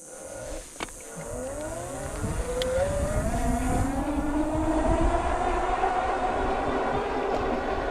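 Lectric XP Lite electric folding bike climbs a steep hill on throttle alone, its hub motor giving a rising whine that builds and then holds steady under heavy wind rumble, with a couple of brief knocks early on.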